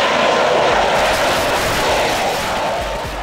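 A heavy jet aircraft weighing over 75,000 pounds taking off vertically like a helicopter, heard as a steady, loud, broadband engine roar that holds constant and fades slightly at the end.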